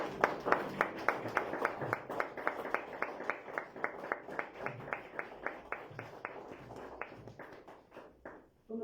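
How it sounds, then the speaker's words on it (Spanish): A church congregation clapping together in a steady, rhythmic beat during a Sunday service, fairly distant and moderately loud, fading out near the end. "Démosle un fuerte aplauso"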